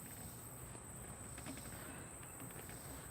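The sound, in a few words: bumblebees and little bugs chirping outdoors in the evening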